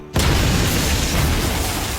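A weapons depot explodes in an action film, a sudden deep blast after a brief quiet start, followed by a sustained roaring rumble that fills the rest of the moment.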